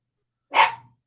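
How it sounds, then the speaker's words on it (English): A dog gives a single short, sharp bark, close and fairly loud, in the middle of otherwise silent surroundings, with no voices. "Who's he barking at?"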